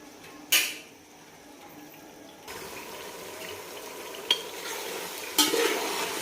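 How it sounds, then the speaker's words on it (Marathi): Mutton pieces for dum biryani frying over full gas, with a steady sizzle that rises partway through and is broken by a few sharp clinks of stirring against the pan. "तर आता ह्याला आपण 5 मिनिट चांगला असं फुल गॅसवर आपण परतून घेणार आहे"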